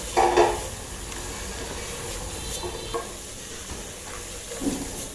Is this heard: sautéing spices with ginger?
yes